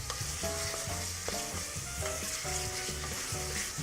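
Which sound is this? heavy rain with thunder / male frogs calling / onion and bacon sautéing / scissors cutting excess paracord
onion and bacon sautéing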